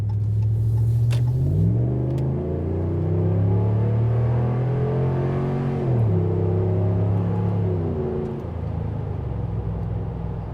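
A 2015 Ram 1500 Laramie Limited pickup's 395-horsepower Hemi V8 revs and accelerates, its deep rumble rising in pitch through gear shifts, loud and continuous throughout.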